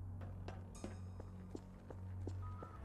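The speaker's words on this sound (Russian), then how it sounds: "Я слышу шаги." Footsteps in a FNAF-themed Garry's Mod VR game tread steadily across the floor, about eight quiet, evenly spaced steps over a low steady hum, with no talking.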